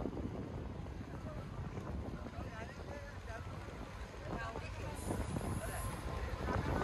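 A boat engine rumbles steadily amid water and wind noise outdoors on crowded Kerala backwaters near Alleppey, with faint voices mixed in and a brief high whine partway through.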